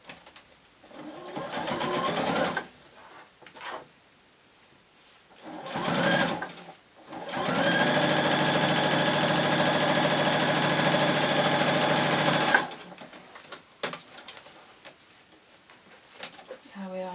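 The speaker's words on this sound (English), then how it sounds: "I'm going to sew this one in place and then put some lace over the top." Domestic sewing machine stitching lace onto a shabby chic fabric tablet case, running in a long steady burst after a few shorter bursts, close and loud; a voice talks briefly before and after.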